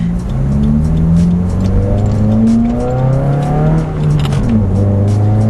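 A car running an Accessport tune accelerates hard through the gears, its engine note rising in repeated sweeps broken by quick shifts, loud and close from inside the cabin, with light rattles and no talking.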